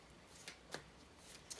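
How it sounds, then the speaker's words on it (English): A tarot deck is shuffled in short, crisp riffling bursts, three quick flutters spaced apart, quiet and close with no talking. "now I feel like shuffling"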